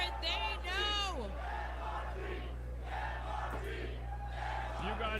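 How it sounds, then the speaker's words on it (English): A wrestling crowd at a Speedball Mike Bailey vs Michael Richard Blais match bellows and chants in rising, sustained swells, a dense roar of many voices filling the arena throughout. "You can hear the crowd calling for it."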